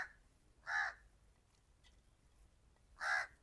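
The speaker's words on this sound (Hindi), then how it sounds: "कौवा जो है ना वो फिर से बोल रहा है" A crow caws twice outside a village home, two short harsh calls about two seconds apart, moderately distant and clear over quiet background.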